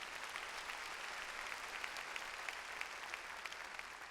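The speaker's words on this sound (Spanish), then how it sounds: "Damos un aplauso al Señor." A church congregation applauding at a service, steady dense clapping from many hands that sounds moderately distant and continues evenly throughout.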